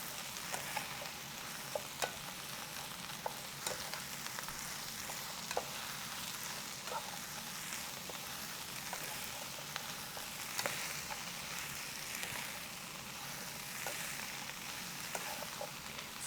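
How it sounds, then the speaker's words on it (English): Bok choy stir fry sizzles steadily in a hot pan, with faint scraping and clicking as it is stirred at irregular moments, fairly quiet throughout. "And give it a stir."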